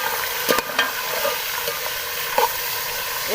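Half a kilo of chicken drops into browned onions in a pot and fries with a steady, close sizzle, broken by a few sharp scrapes and clatters of a spoon stirring.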